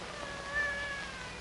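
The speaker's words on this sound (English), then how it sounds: "A cat." A pure white cat meows indoors, a brief, faint, drawn-out cry over a low background hum, with no other sound standing out.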